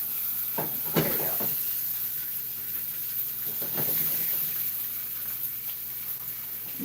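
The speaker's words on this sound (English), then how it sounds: "I'm gonna flip this over and get a little bit of a sear on this." Meat searing in a hot pan, with a steady broad sizzle running throughout and a few louder crackling bursts as it is flipped and pressed.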